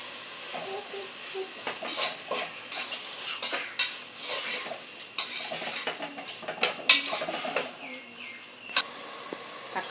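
Chopped onions and tomatoes fry for chicken biryani while a metal spoon scrapes and clinks against the pot in uneven bursts over a soft continuous sizzle, close and fairly loud.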